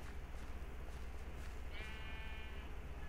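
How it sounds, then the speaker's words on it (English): A faint, short sheep bleat from Minecraft rises once over a steady hiss of background noise. "That's a sheep."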